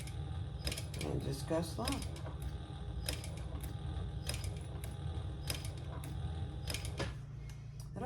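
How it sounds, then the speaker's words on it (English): Leather hand stitched with a needle around a circle while making a magnet piece, giving repeated creaking pulls and soft clicks close up, with a person talking quietly over the work. "So I'm just going to stitch around where I see my circle."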